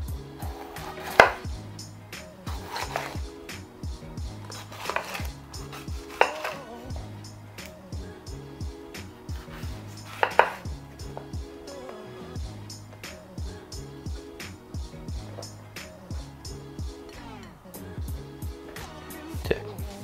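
A knife chops a bell pepper into rings on a cutting board, with sharp, irregular knife strikes repeating throughout over light background music and no talk.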